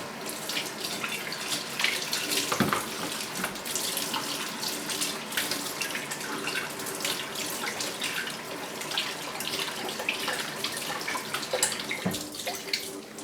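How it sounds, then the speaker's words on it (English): Running tap water splashing as hands are washed at a kitchen sink during sourdough preparation, a steady close rush that lasts throughout. "I'm going to wash my hand."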